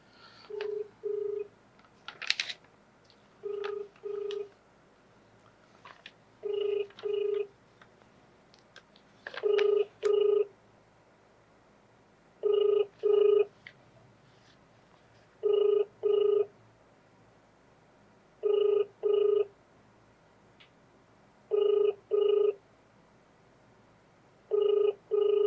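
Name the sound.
phone call dialing and ringing unanswered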